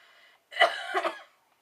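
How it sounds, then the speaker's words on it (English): A single close cough, sharp and throaty, preceded by a faint breath. "I'm sorry if I'm coughing a lot."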